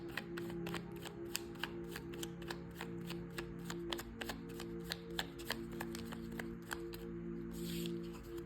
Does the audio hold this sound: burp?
no